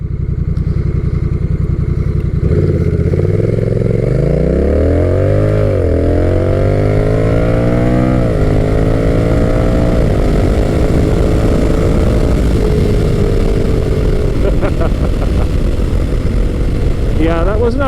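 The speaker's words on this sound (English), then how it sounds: "I'll put it in sport mode just for a little run up through the gears." A Honda Rebel 1100 T DCT bobber-bagger motorcycle in sport mode accelerating up through its automatic dual-clutch gears, loud and close, with engine pitch climbing and dropping at each of several shifts before easing off.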